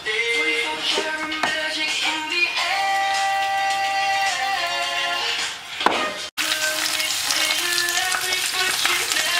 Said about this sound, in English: in the frying pan mixing the pesto